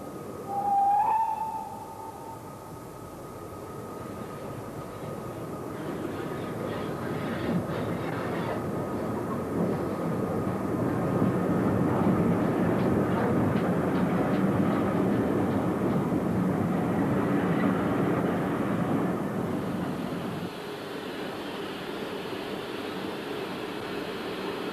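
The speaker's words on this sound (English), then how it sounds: "This former Great Western engine is operating far from its origins in South Wales." A former Great Western Railway steam freight locomotive from South Wales works along a line near Lewisham Station, a steady rumbling roar that builds and holds for most of the stretch, with a brief whistle-like tone near the start.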